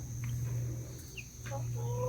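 Chickens cluck softly in a small flock of backyard hens with a rooster, a few brief, close calls over a steady low hum.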